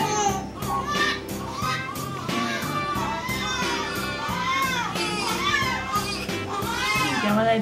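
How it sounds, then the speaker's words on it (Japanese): A newborn baby cries continuously in a hospital delivery setting, its wavering high wails rising and falling close by, with adults talking quietly underneath. "泣き止まないぞ。"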